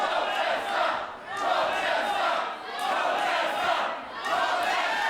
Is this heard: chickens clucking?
no